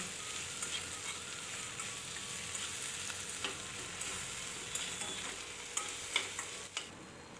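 Potato pieces sizzle in hot oil for a dosa potato filling, a steady close hiss with a few light scrapes and taps from stirring in the pan toward the end, no voices.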